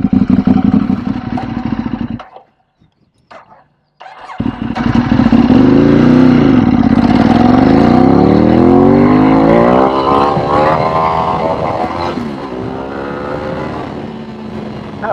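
A Ducati 848 motorcycle engine revs loudly and close while riding, its pitch climbing and falling through gears under acceleration, broken early by a brief near-silent gap before the throttle opens again.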